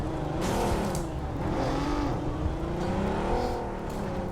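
A car engine in the mobile battle royale game BGMI hums and revs continuously, rising and falling in pitch as the vehicle drives, loud and close throughout.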